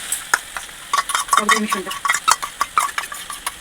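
Spices being stirred in a cooking pan for a sardine fish curry, with a run of sharp metal spoon scrapes and clinks against the pan over a soft sizzle, close and clear.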